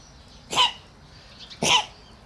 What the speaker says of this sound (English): You're going to cough all through this video, are you, dog?